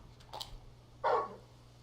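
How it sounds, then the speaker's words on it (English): Torgal, a large dog in the video game Final Fantasy XVI, gives a short whimper followed by one loud bark, heard close and alone over a low steady hum. "You're just a big puppy, aren't you?"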